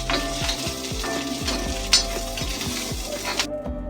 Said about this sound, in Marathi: आता कांदा भाजला आहे चांगला आहे बघा, लालसर झाला आहे चांगला।